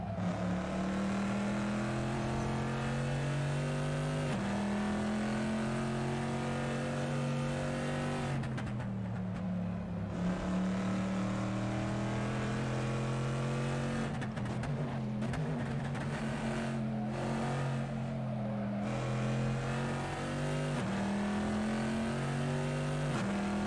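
Corvette C7.R race car engine in the Assetto Corsa racing game at Tor Poznań, droning loud and continuous at high revs, with gear shifts and dips as it slows and picks up again through corners, no voices.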